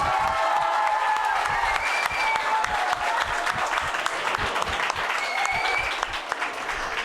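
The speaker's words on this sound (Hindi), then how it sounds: "इसलिए ताली इनके लिए।" A large audience at a BSTC test series award programme claps steadily throughout, a dense, loud round of applause with scattered sharper claps and a faint murmur of voices underneath.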